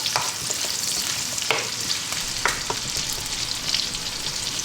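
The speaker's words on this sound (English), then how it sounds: "Then we're going to add onion, white onion cubed." Cubed white onion fries in hot oil in a wok with a constant bright sizzle and occasional scraping clicks from stirring, close and steady, no talking.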